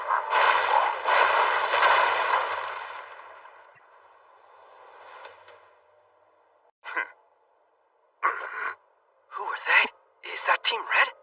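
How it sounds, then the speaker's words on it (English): A new cannon fires in an animated battle, a burst of heavy blasts followed by a fading rumble, then several short sharp shots spaced apart toward the end. "they really do have a new cannon, kid."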